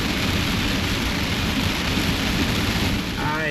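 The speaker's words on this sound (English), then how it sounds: "this is officially too much rain for me" Heavy rain pours steadily and loudly onto a parked van, a dense constant hiss that fills the whole stretch, with no talk.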